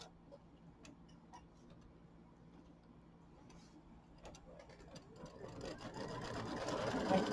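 A home embroidery machine stitches the placement line for an acorn appliqué in brown thread on a Kimberbell mini quilt, its steady mechanical ticking whir growing gradually louder toward the end.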